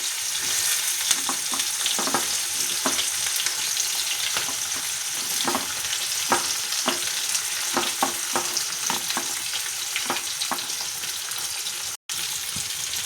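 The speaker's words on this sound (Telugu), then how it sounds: "ముందుగా ఈ ఆనియన్ తీసుకొని ఆయిల్ హీట్ అయిన నూనెలో వేసుకోవాలండి" Sliced onion sizzles in hot oil in a pan, with a steady close frying hiss and scattered clicks of stirring.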